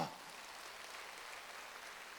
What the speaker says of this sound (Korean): 저기 있는데 박수 좀 쳐주세요